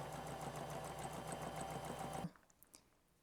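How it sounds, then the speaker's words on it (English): A sewing machine runs steadily, stitching quilt hexagon pieces at a 1/4 inch seam with a fast even needle rhythm, close and loud for about two seconds before stopping abruptly, leaving faint handling clicks. "we're sewing with a 1/4 inch seam allowance"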